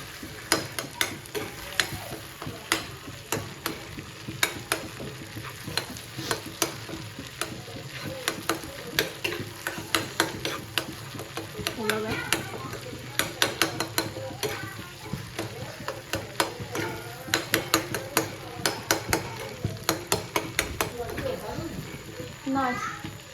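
Goat brain fries and sizzles in a pan while a spoon scrapes and stirs it in quick, irregular strokes, close and clattery, with people talking in a village setting throughout.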